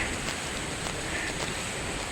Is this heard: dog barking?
no